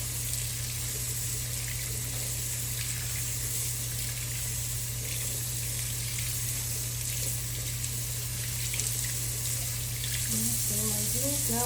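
Water runs from a tap over beans being washed, a steady rushing flow under a low constant hum, with a voice speaking briefly near the end.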